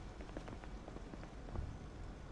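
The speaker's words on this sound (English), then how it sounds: "Thunderstorms, heavy rain." Steady heavy rain from a thunderstorm in the video game Project Zomboid patters in a dense, even wash, fairly quiet and continuous with no voices.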